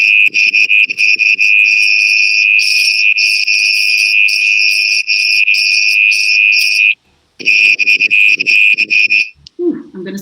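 Recorded night insect calls, a loud, piercing continuous shrill buzz with pulsing overtones, briefly cutting out near the end before resuming and then stopping.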